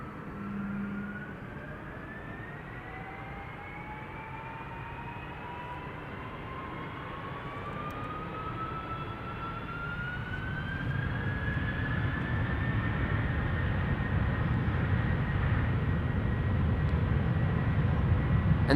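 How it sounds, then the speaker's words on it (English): Delta Air Lines Airbus A330 jet departing Amsterdam Schiphol for Detroit: rising turbine whine climbs steadily in pitch while a broad engine roar swells louder toward the end, close by and with no voices. "And this is Delta Airlines flight 135 to Detroit,"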